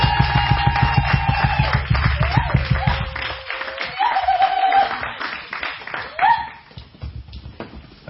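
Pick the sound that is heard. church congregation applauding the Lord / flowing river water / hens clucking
church congregation applauding the Lord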